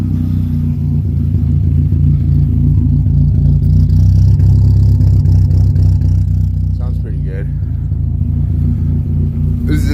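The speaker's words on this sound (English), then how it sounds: "A little rough idle." A car engine idles roughly with a loud, steady low rumble and an uneven, clattery undertone that runs the whole time, up close with no pauses.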